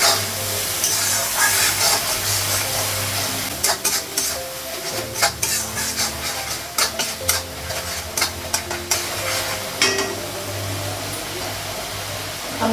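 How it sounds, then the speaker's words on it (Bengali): Spices frying in a pan for dal, a steady close sizzle broken by clattering stirs and scrapes of a spoon against the metal, loud and continuous with no talk. "মশলাগুলো একটু ভেজে নিব, তারপর আলুটা লাগাবো।"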